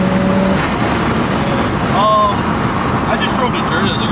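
Nissan R33 GTR engine pulls under acceleration while driving, a loud continuous rumble with a brief rising whine in the middle, heard from inside the car.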